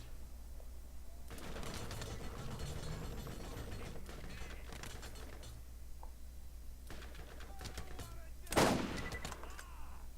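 Sniper rifle fire in the Borderlands video game, with faint background game ambience and a single sharp, loud crack near the end.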